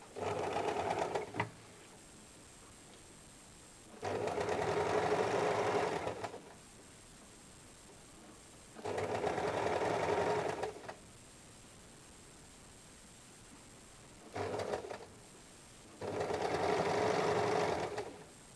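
A sewing machine stitching a blouse sleeve, running in several bursts of steady whirring lasting a couple of seconds each with short pauses between, close and clear with no talking.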